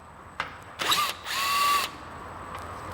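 A power tool spins briefly to loosen a T30 fastener on the rear rack of a modern Vespa scooter, giving two short bursts followed by a steadier whir of about half a second, close up in a quiet workshop.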